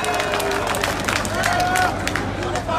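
A crowd claps at a political rally in Rohtak, a steady, dense patter of hands that sounds fairly close and continues for the whole stretch under a loud voice.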